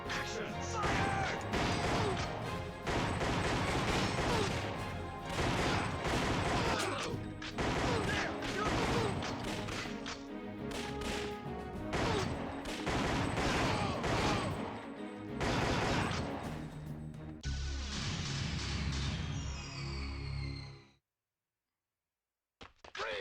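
A light-gun video game plays a dense, loud barrage of rapid gunfire with crashes and impacts, nearly continuous for about twenty seconds before cutting to silence, with game voices now and then.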